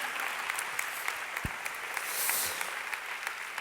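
Applause follows a talk on conflict, a sustained, softer wash of many hands clapping from a seated audience in a hall, even and somewhat distant, with one sharp knock partway through.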